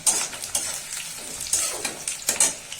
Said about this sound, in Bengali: পেঁয়াজগুলো ভাজা হতে থাকে।